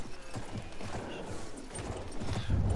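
Horse hooves clip-clop in a rapid galloping rhythm during Battlefield 1 wartime gameplay, mixed with battlefield noise and a short whinny.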